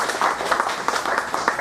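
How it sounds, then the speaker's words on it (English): Applause from an audience at a book launch, a steady patter of claps at moderate level running through the whole moment with no one speaking. "deserve a round of applause as well"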